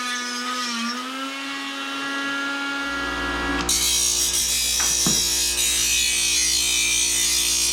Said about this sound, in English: I'm really trying to resist the urge just to let the Dremel do circles in this little groove here